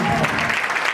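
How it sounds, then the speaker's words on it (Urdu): Church congregation during an Easter sermon bursting into loud, dense applause, a continuous roar of clapping filling a short moment. "زوردار تالیاں"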